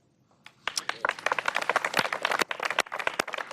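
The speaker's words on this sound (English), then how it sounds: "I'm going to applaud them." Applause for newly named Canadian federal cabinet members at a government announcement: a burst of many hands clapping starts after a brief hush and continues densely and steadily to the end, fairly close.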